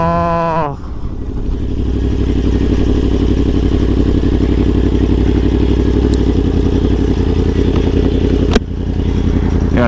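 A Yamaha R1 with a KO exhaust idles loud and close with a steady, throbbing, slightly lumpy note, after a brief rev at the start and a sharp blip near the end.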